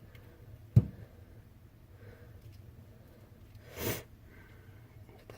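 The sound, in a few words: sniffling with a cold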